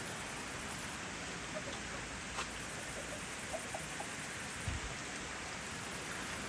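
Steady soft hiss of rain falling, with a few scattered drips and taps standing out faintly.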